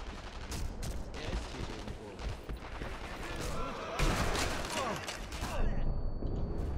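Sniper gunfire in the World War II shooter Sniper Elite V2, a dense spread of gunshot bursts over continuous battle noise, fairly faint throughout the stretch.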